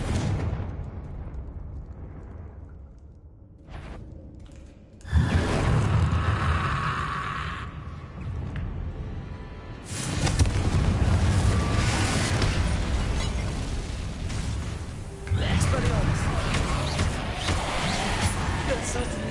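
Confringo fire spells burst in Hogwarts Legacy: three heavy, booming explosions hit at steady intervals, each a loud broadband blast that rumbles on under continuing game ambience.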